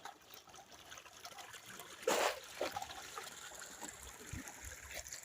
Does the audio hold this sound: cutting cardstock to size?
no